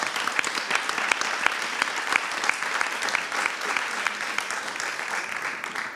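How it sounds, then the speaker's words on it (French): An audience at a French conference panel on women leading the industry of the future applauds: steady, fairly loud clapping from many hands that fills the whole stretch without a break. "On peut l'applaudir."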